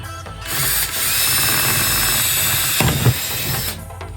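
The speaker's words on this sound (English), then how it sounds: "take and drill holes in your spots" A power drill whirs steadily for a few seconds, close and loud, with a brief grinding bump near the end before it winds down.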